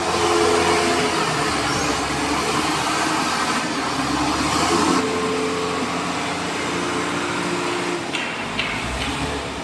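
Komatsu FD40AT-7 forklift with an automatic transmission and an engine of about 68 horsepower, running continuously nearby: a loud, steady mechanical drone with clattering overtones, alone with no voices.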